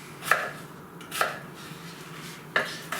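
Knife chopping through potato on a cutting board, three or four sharp, separate chops spaced unevenly, close and clear with no talking.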